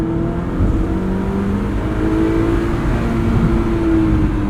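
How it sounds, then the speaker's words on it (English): A 2009 Mazda MX-5 Miata's 2-liter inline-4 revs under load with the top down, a loud, steady engine drone rising in pitch over several seconds, with wind and road rumble beneath. "Great throttle response from this 2-liter inline 4-cylinder"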